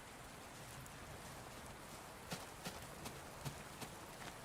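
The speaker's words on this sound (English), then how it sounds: "Hope you all enjoy the rain noises in the background." Gentle rain falls in the video game Minecraft Beta 1.7.3, a soft constant hiss with a handful of light knocking taps in the second half and no speech.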